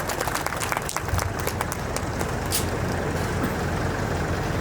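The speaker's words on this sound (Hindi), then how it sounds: "जोरदार तालियों से उनका स्वागत करते हैं" An audience at an agricultural crop show greets a company's R&D head with loud, continuous applause, a dense wash of clapping mixed with low rumbling crowd noise.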